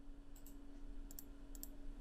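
A computer mouse clicks in three quick double-click pairs, crisp and close over a low steady electrical hum.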